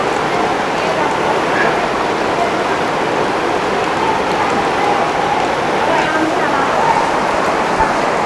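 Floodwater surges in waves through the Tapkeshwar temple in Dehradun, a loud, continuous roar of rushing water with no pause throughout, and a voice faintly under it.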